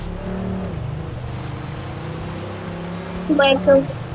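A motorbike engine in an off-road driving video game drones steadily with shifting pitch, rising briefly near the end, and a person talks over it.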